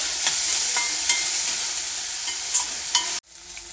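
Tomatoes and onions fry in a pan, a steady bright sizzle with a few soft stirring clacks, cutting out abruptly near the end into a quieter room tone.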